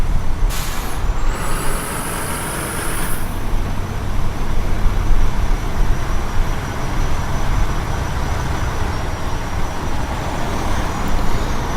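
Fire truck air brakes in the Emergenyc video game release with a hiss near the start, over a steady loud rumble of idling engines and traffic.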